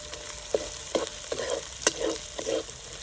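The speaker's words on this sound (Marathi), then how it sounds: "शेंगदाणे सुद्धा मस्त तेलावून घेतील खरपूस हेचा पण छान परतला जाईल" Peanuts and crushed green chilli thecha fry in oil in a pan over a wood-fired stove, a low crackling sizzle punctuated by about six distinct spatula scrapes spaced roughly half a second apart.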